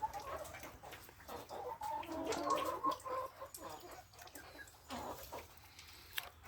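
Trabzon Guguli hens and a rooster cluck in a yard, low, irregular bursts of calling at moderate distance, fading and returning over faint background noise.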